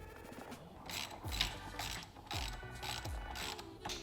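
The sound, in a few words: bolt being put back in on a supercar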